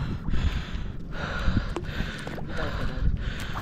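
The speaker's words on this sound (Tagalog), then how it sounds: "Hingal ako eh." Heavy, rapid panting of a free diver catching breath after a deep dive without fins while spearfishing for grouper, close to the mic, with wind and water noise underneath.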